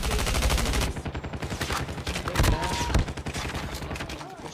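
Rapid gunfire from a Call of Duty match played in a tournament, with bursts of automatic shots, heavy single booms and a dense stream of sharp reports following each other quickly.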